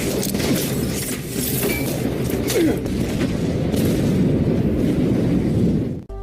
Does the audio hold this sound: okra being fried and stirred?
no